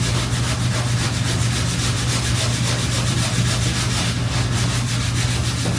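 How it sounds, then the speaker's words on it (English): Steady, continuous abrasive rubbing of sanding on wood, close and loud, with a constant low hum underneath throughout. "So I'm gonna start with this and start sanding."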